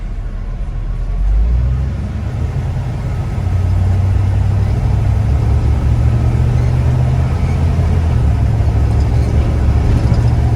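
A truck engine running and shifting: a loud, close, steady low rumble that steps up in pitch and level partway through as the gear changes, then holds a constant drone, no voices.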